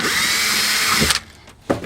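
A power drill bores a hole for a pop rivet in a duck boat under construction. The drill whines loudly and steadily, then stops, and two short bursts follow.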